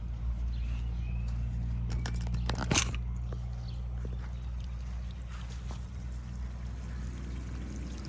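Water flows steadily through a homemade pool siphon hose as a continuous low rushing pour, with a few faint knocks over the top and no talking.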